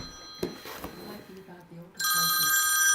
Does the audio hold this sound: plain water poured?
no